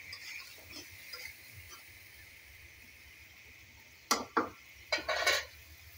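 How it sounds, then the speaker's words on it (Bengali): Mutton and potatoes stir-fried in a pan on a stove, a steady low sizzle followed by several loud, close scraping clanks of a spoon against the pan near the end. "মাংসের ভিতরে আলুটা দিয়ে একটু ভালো করে কষিয়ে নেব মাংসটা"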